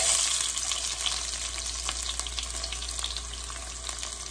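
Garlic sautéing in hot oil in a pan, a steady loud sizzle and crackle that holds throughout, close up with no talk.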